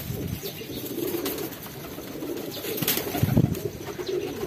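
A pair of pigeons coo softly nearby, low rounded calls repeating under a steady background hiss, with a brief rustle of movement.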